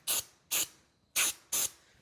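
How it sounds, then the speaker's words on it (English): Brake cleaner sprays onto a Jeep pinion yoke in four short, sharp aerosol bursts, each a loud close hiss separated by brief pauses, with no talk. "I go ahead and spray with a little brake clean, and we'll wipe all that off."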